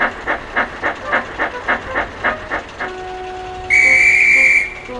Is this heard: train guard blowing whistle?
yes